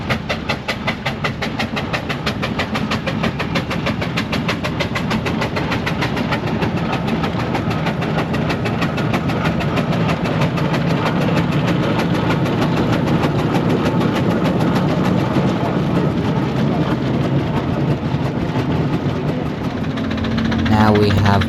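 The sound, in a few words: steam traction engine running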